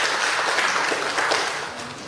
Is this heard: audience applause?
yes